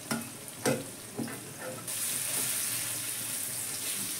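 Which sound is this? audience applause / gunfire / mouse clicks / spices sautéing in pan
spices sautéing in pan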